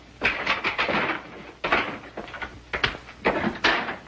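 Someone bangs on a locked door in a 1936 crime film noir. Several loud wooden thumps and knocks come in irregular bursts, some close together and some spaced apart, with a hollow, boomy quality and no talking.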